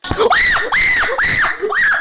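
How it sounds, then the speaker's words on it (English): Loud, repeated screaming, four long strained shrieks in a row with brief gaps, from a streamed reaction, heard up close and alone. "I'll play the reaction here for you so you can hear this devastating scream"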